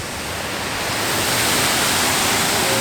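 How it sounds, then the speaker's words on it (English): A resort waterfall at Disney's Wilderness Lodge pours in a steady, dense broadband rush, loud and continuous with no break, swelling slightly at the start and then holding even. "There's that waterfall."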